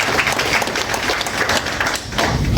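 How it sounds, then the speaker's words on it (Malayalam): An audience at a church synod meeting breaks into steady applause, a dense, continuous wash of clapping from many hands filling the room without pause. "ഹൃദയം തുടിക്കുന്ന ഭാഷയിൽ വലിയൊരു കയ്യടിയോടെ"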